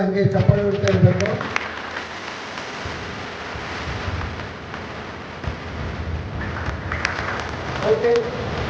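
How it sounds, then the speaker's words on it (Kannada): A thick, continuous patter of audience clapping at a Mahindra tractor handover function in Devadurga runs steadily from start to finish. It sounds like rain, with a voice briefly over it at the beginning and end. "ಹಂಗೆ ಚಪ್ಪಾಳೆ ಹೊಡ್ತಾ ಇರಬೇಕು"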